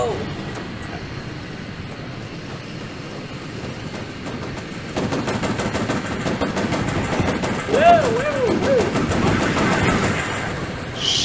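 Rapid automatic gunfire from warplanes in an aerial combat video game rattles steadily under a continuous engine drone, growing louder partway through, with occasional voices.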